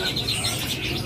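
A brown cililin bird chirps in repeated short, bright tweets at close range, fairly faint over a busy background of shop noise.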